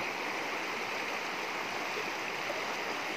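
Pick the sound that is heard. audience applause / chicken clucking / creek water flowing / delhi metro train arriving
creek water flowing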